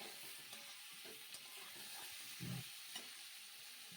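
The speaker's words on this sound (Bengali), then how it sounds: "ভালো করে একটু নেড়েচেড়ে আবার ওটাকে একটু কষিয়ে নেব" Drumstick and potato curry with turmeric, in only a little oil, is stirred in a wok. It gives a soft, steady sizzle broken by occasional scraping stirs, with no voices.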